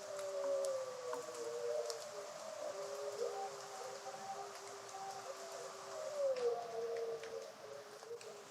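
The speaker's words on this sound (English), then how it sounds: "we heard the howl of wolves" Wolves howl in the woods at night near a cabin in the Canadian mountains, long wavering tonal cries rising and falling at a distance over a steady hiss of background noise.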